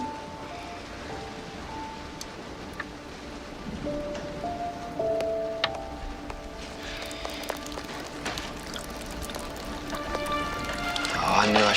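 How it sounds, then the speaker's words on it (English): Continuous rain patters in the background with occasional drops and taps, growing slightly heavier toward the end; faint tones hum beneath. "It's raining outside."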